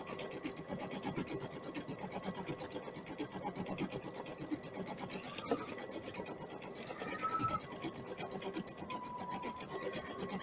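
A home embroidery machine stitches a design onto toilet paper, its needle chattering in a fast steady rhythm close by for the whole stretch, with no talking.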